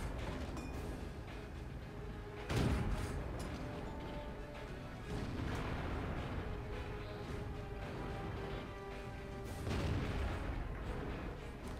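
In the World of Tanks game, tank cannons boom several times over a continuous engine rumble, with heavy shots about every few seconds that are fairly loud and blunt.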